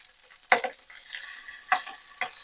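Red curry sausages fry quietly in a pan while tongs turn them, giving a few sharp metallic clicks and scrapes over a faint, low sizzle.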